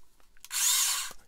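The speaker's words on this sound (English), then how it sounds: "Oh, the cute Tamiya electric drill." A small Tamiya electric drill whirs in one steady high-pitched burst of about half a second after a few faint clicks, close and loud on its own, while a Bandai 1/144 Star Wars AT-AT model kit is taken apart.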